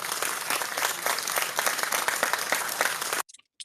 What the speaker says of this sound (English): Let's give Natalie a round of applause.